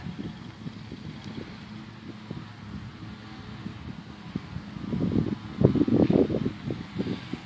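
Wind blowing across an open Florida garden with a young corn bed, a steady low rushing that swells into stronger, louder gusts toward the end.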